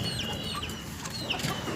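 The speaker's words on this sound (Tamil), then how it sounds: "சேவல் இருக்குது பாருங்கள்" Roosters kept for sale at a pet shop in Ayyampettai, Thanjavur district, give a few short, close clucks over a low, busy background murmur.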